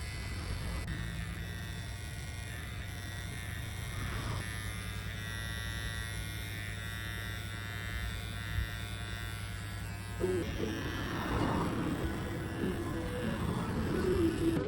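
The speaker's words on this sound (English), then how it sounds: "Finally, I use my trimmer to line up the hairline." An electric hair trimmer buzzing steadily close up while a barber lines up a client's hairline during a mid round fade, with the tone shifting as it touches hair and a louder stretch near the end.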